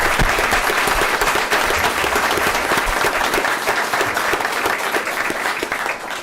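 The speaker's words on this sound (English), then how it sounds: "One more round of applause for all of our kids." A school board meeting audience gives loud, full-room applause for student athletes, a dense and unbroken roar of clapping that holds steady and eases off slightly near the end.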